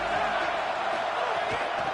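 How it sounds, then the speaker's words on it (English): A stadium crowd roars in a college football video game, forming a dense, steady wash of cheering that holds at an even, loud level for two seconds without letting up. "This crowd ready to make its presence known."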